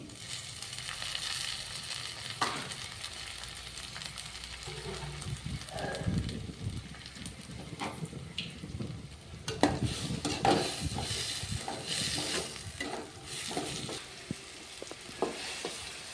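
Tomatoes fry in a pan for a drumstick (nuggekai) palya stir-fry. Soft oil sizzle runs throughout, with occasional scraping and stirring clatter from a utensil against the pan, fairly close and moderately quiet.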